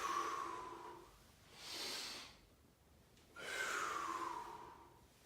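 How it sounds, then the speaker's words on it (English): Heavy breathing during a full-body dynamic warmup workout: two loud, drawn-out breaths, an inhale and then an exhale, followed after a pause by another long breath, with no talking. "Let's again do some breathing here."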